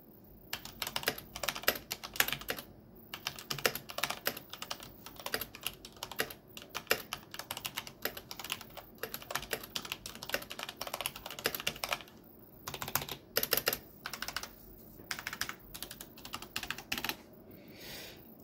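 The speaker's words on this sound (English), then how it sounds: "let's do a sound test on the Cherry MX Reds" Fast typing on a mechanical keyboard with Cherry MX Red switches fills the whole stretch, a close, steady patter of light key clacks with occasional brief pauses and no talking.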